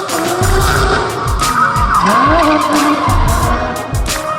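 A drift car at a Red Bull Drift Shifters event skids with loud, continuous tire squeal over a revving race engine, heard close up.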